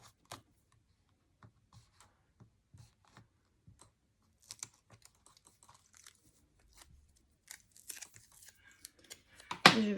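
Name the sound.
double-sided adhesive tape strip being applied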